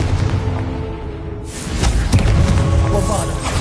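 Confringo fire-blast spell in Hogwarts Legacy: a loud whooshing burst that swells suddenly partway through, followed by thumping impacts and crackling debris over a dense game soundscape.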